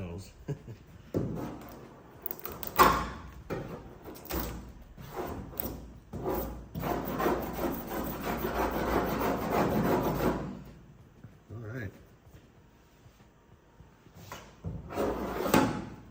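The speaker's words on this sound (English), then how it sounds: "Gotta pretty much sand it out, just gotta get rid of this." Truck body work being sanded out by hand, with rasping, rubbing strokes in uneven bursts and a long sustained stretch in the middle; the sound is close and moderately loud, and brief speech appears at points.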